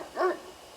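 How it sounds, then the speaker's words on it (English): A single short canine howl or whine from a dog in the horror adventure game Death Mark, rising and falling briefly, heard nearby and alone over a faint background hum. "You can hear a dog howl from nearby."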